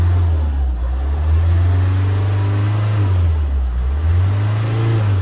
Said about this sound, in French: Et quand j'accélère